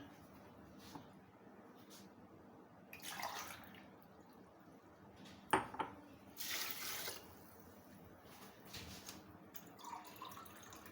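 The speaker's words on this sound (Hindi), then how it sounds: "पानी हमने बहुत ज़्यादा नहीं डालना, हिसाब का डालूंगी।" Water is poured at a moderate level while making chicken shami kabab, steady with a few louder surges, with no voices heard.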